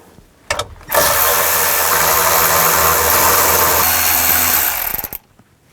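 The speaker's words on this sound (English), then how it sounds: "Take a 7mm socket, take these 3 bolts out." A 7mm socket on a ratchet backs three bolts out of the radio bezel of a 2007 Chevy Silverado 1500 Classic. It makes a loud, sustained mechanical whirring that starts abruptly, runs about four seconds and then cuts off, with no talking.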